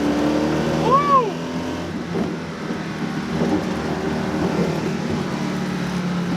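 Tiny, uncommon Honda car nearly motorcycle-sized, driven fast with a steady near engine drone and a brief rising whine early on, under continuous road and wind noise.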